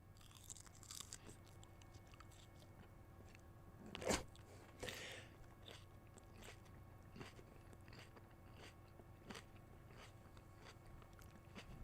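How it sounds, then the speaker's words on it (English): Someone eats a tomato in crunchy bites close to a microphone, with a sharp crunch followed by quieter chewing and crackling over a low background hum and no talk. "I'm having a hard time thinking with that crunching sound in my ears"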